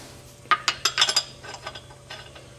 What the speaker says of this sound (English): Now I'm going to put the lug nuts with my fingers, getting it started.